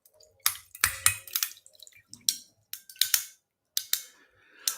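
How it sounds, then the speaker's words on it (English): A big block of ice cracks as a drink is poured over it, giving a run of sharp, close snaps and crackles in irregular bursts against near silence. "I like the sound a big block of ice makes when it cracks when you pour a drink on it."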